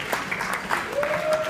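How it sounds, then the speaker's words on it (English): Audience applause at the PRCA awards ceremony, brisk clapping filling the room at close, loud level, with a faint whistle-like tone rising near the end. "Do you need to applaud yourself?"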